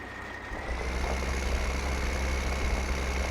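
A tractor engine in Farming Simulator 15 while plowing at speed: a steady, low diesel drone with a faint high whine, rising in load in the first second then holding even and close.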